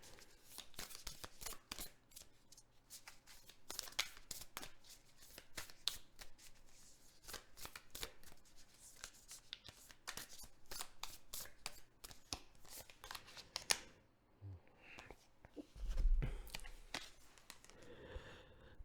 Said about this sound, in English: Let's pull a card from the Starseed Oracle for the collective